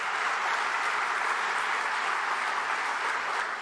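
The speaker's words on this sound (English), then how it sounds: "Give yourselves a round of applause." A rally crowd in a Roanoke, Virginia theatre applauds in a continuous, fairly distant wash of clapping that holds steady from start to finish.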